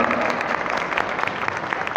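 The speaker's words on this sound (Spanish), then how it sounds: "Un aplauso para los que acaban de venir." A crowd outdoors in Buenavista claps for newly arrived people, brisk and fairly loud applause with individual hand claps audible throughout.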